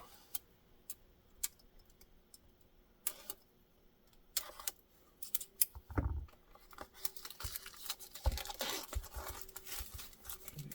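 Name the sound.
unboxing a flashlight box, removing plastic wrap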